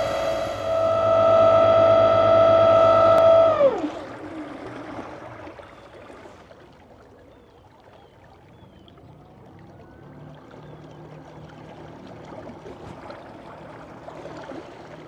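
A small Hankai electric outboard motor whines with a loud, steady tone that stops abruptly after about four seconds, leaving quiet water and boat sounds.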